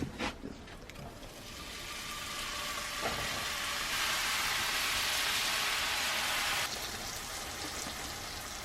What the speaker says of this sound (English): Gotta have the sizzle.